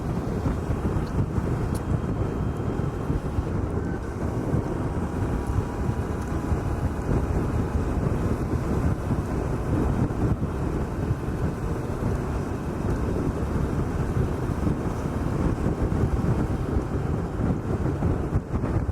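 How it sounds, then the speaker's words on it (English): Strong wind buffets and rumbles steadily against the microphone while riding a Suzuki V-Strom 650 motorcycle on the open road, a loud, constant blustery roar. "Kind of windy today."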